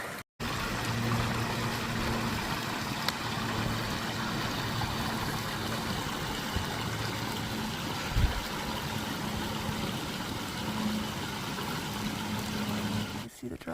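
Ice-cold mountain stream on the Colorado Trail in the Rockies, rushing as a steady broadband wash of flowing water that stays constant and fairly close for the whole stretch.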